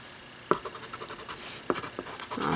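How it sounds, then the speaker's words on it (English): An eraser rubs out graphite pencil lines on an acrylic painting, giving soft, close scrubbing strokes in short bursts, with a couple of light taps against the surface. "now I just need to erase my graphite lines"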